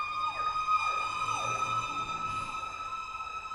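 Wailing siren sweeping up and down repeatedly over a steady high tone, loud and continuous, with no voices.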